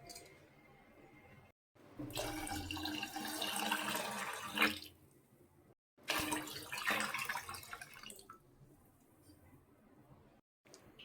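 Water is poured into a pot for cooking pongal after one cup of rice and lentils, two bursts of pouring, each a few seconds long, close and moderately loud with short quiet gaps between.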